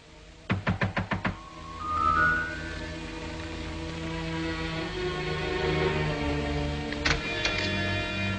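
A rapid series of about six sharp knocks on a door, followed by a low creak and ambient hum, then two or three more knocks near the end, with no voices.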